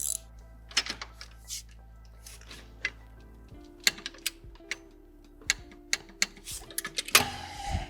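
A torque wrench tightening the pitch stop bolt on a Subaru WRX gives sharp, irregular metallic clicks and ratchet ticks over a low steady hum, ending with a short rattling burst.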